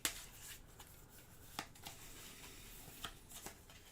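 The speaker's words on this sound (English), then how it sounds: "So we shuffle up the event cards." Event cards for the board game Stars of Akarios are shuffled up close, giving a sharp opening snap followed by soft riffling and a few crisp flicks, quiet and with no voices.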